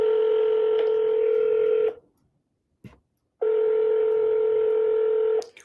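Telephone tones from a phone call being placed: a loud, steady electronic tone sounds for about two seconds, breaks into silence with a brief click, then returns just as loud for two more seconds. No voices.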